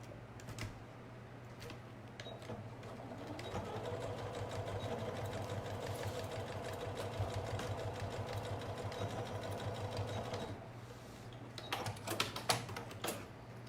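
A sewing machine runs steadily for about ten seconds stitching a double pencil case, a continuous motor hum with a fast mechanical needle rattle, close and loud, followed by a few sharp clicks and handling knocks as it stops.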